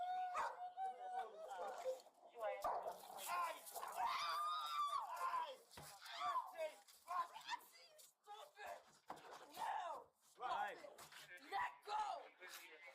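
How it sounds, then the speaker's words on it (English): An overexcited dog yips, whimpers and barks amid a tense outdoor confrontation, with several people talking and shouting continuously over the animal throughout. "As they're speaking, the couple's dog gets overexcited and bites Felipe."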